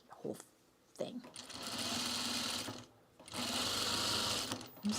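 A sewing machine stitches fabric for pajamas and sport shorts, running close and steady in two sustained bursts separated by a short pause.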